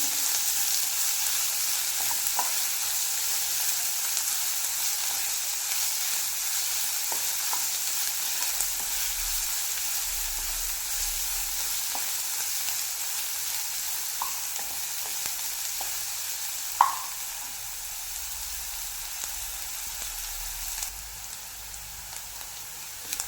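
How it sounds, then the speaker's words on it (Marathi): Chopped onion frying and being stirred in a pan over a medium flame for ridge gourd curry, a steady soft sizzle throughout with occasional faint scrapes and clicks of the spoon, no voices. "व्यवस्थित मिक्स करून घ्यायचं कांदा ट्रान्सपरंट होईस्तोवर तर परतवायचं मिडियम फ्लेमवरती"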